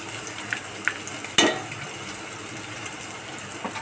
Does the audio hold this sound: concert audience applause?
no